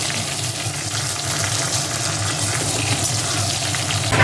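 Continuous loud hiss of potatoes frying in oil, close and even throughout, with no talking.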